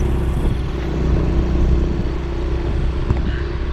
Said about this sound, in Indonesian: Motor Yamaha Mio